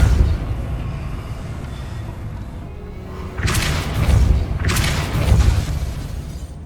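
Depulso spell cast in the video game Hogwarts Legacy: two forceful whooshing bursts with a low booming impact, loud and close, set against a quiet ambient bed.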